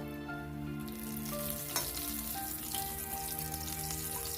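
A white gordita fries in hot oil as more oil is spooned over it, a steady close sizzle and crackle with occasional spattering pops.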